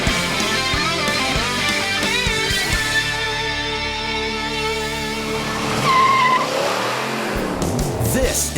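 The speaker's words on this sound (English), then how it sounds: "This is what the muscle car was all about. Straight line acceleration." A 1970 Chevrolet Chevelle SS 454 muscle car revs hard and accelerates in a straight line, its loud engine note climbing through gears with tire squeal near the end.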